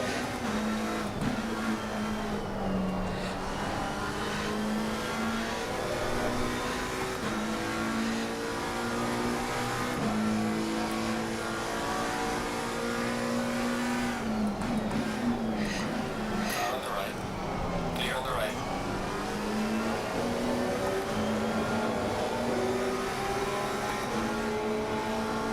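A Porsche race car engine in Assetto Corsa Competizione at Watkins Glen drones loudly and continuously, rising and falling through gear changes, with brief tire squeal mixed in under occasional speech.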